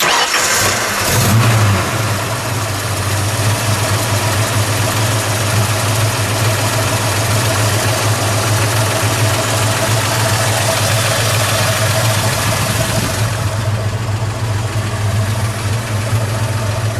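A 1969 Ford Mustang Boss 302 V8 in Calypso Coral Orange cranks and fires, then settles into a loud, steady, rumbling idle that is held close to the engine for the rest of the stretch.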